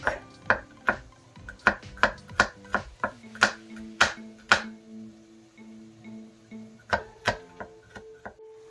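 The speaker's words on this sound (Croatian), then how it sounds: "Seckamo beli luk." A knife chops garlic on a board in a home kitchen, sharp distinct taps landing in quick irregular bursts with short pauses, close and alone, a faint pan ring between strikes.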